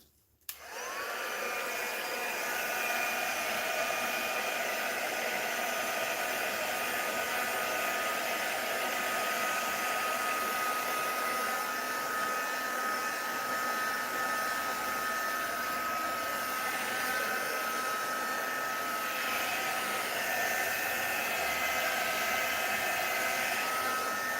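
A heat dryer blowing over wet alcohol ink, a steady close hum and rush of air that runs unbroken for over twenty seconds after a short click on, fairly quiet overall with no talking.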